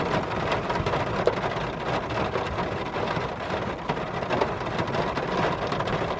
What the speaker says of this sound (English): We're hanging out in the rain together on our walk.